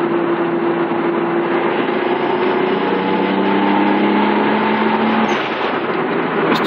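Engine of a 1994 Mitsubishi 3000GT VR-4 with a 15G turbo build, accelerating in third gear in sport mode, a steady close-up drone whose pitch climbs gradually over several seconds.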